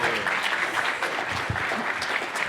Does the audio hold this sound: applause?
yes